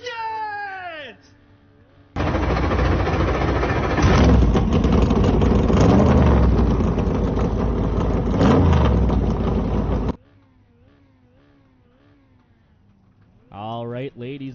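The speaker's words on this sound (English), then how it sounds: "Drivers, start your engines!" Several dirt mini stock race cars fire up their engines at Fairbury Speedway, a loud sustained roar of revving motors lasting several seconds, with talk heard before and after.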